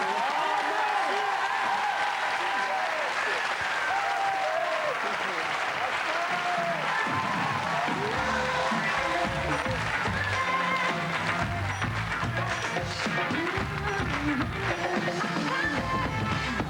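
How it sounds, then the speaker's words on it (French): A television studio audience applauds the guests on a French talk show, sustained loud clapping and crowd noise running throughout with voices and cheers mixed in. "on va demander au public de vous applaudir"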